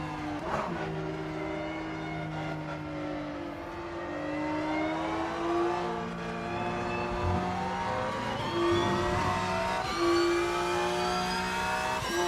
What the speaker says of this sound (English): Oh, this is a lovely Porsche,